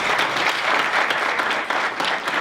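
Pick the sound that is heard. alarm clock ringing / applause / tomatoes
applause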